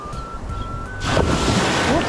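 Steady wind and ocean surf noise while fishing from shore, with a wave surging louder halfway through and a faint voice under the rush of water.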